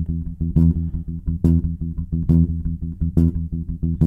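Fast bass guitar plucking exercise in groups of five, played sped up: a steady run of rapid, even plucked notes with low sustained tones and recurring accented attacks, loud and alone without talk.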